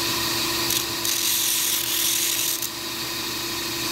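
A bench grinder grinds and sharpens a kitchen knife after bolster removal, giving a steady, continuous high whine with a faint shifting rasp as the blade is drawn across, close and even throughout.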